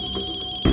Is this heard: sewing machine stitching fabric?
no